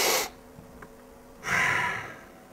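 A man imitates a deep breath with his voice: a short breathy exhale, a pause, then a longer, louder rushing breath that fades out.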